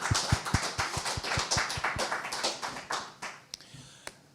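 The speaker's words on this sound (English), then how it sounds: "Can we get a round of applause for our awesome panelists here?" Audience applause for the panelists at a community conversation event on the planet's future, heard as a burst of scattered hand claps that thin out toward the end, with no voices over it.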